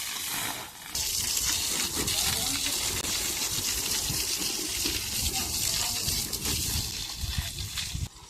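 Tap water gushing steadily into a container while a house is being cleaned, with fresh gravel and newly laid flooring around; the flow runs loud and continuous, with background talk and clatter mixed in.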